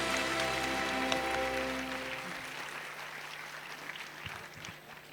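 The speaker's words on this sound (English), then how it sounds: "please have the hand of applause for them." Applause from the audience at a school prize distribution function, a dense burst of clapping that fades and thins out over several seconds, with a low hum underneath.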